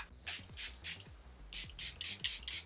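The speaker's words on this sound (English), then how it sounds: "now I'm going to be taking my Charlotte Tilbury Air Brush Flawless Setting Spray" Short hissing bursts of Charlotte Tilbury Airbrush Flawless Setting Spray, several in a row with brief pauses, close and crisp, alongside faint soft rubbing sounds.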